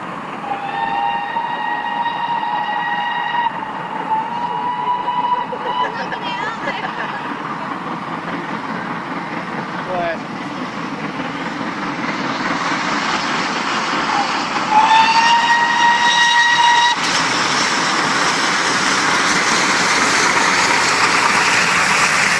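A pair of steam locomotives works a Crewe to Carlisle charter up Shap in May 2002, whistling twice over a long, loud, building rumble of exhaust and rolling stock.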